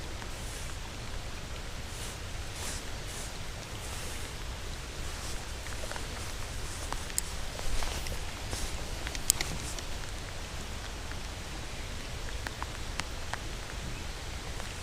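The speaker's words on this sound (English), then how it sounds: "The rain's getting harder now" Steady heavy rain hisses and patters on a muddy creek and foliage, a constant dense wash of drops with no voices.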